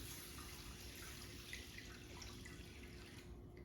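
Chicken broth poured from a two-cup liquid measuring cup into a cooking pot for chicken rice, a steady close liquid splash and trickle lasting a few seconds, heard alone without talk.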